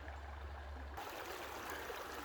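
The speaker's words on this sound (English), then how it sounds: "That's pretty looking waterfall." Water rushing down a small waterfall into a stream, a steady broadband wash of flowing water that stays constant and moderately near with no voices.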